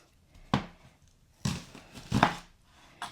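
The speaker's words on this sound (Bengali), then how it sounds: "আমি এখন পেঁয়াজটা কেটে দেখিয়ে দিচ্ছি" A knife chops onion on a board for ground beef curry, four or five sharp, close cuts spaced irregularly across a few seconds in an otherwise quiet kitchen.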